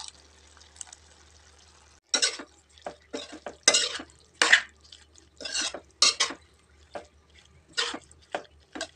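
Spoon scraping and clattering in a pan as ground coconut and poppy seed paste is stirred into a broad beans curry, in irregular bursts after a quiet start.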